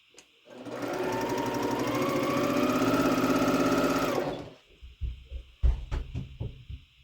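A sewing machine runs in one fast, steady burst for about four seconds while quilt triangles are chain pieced, close and loud, then stops, followed by soft handling clunks and rustles of fabric.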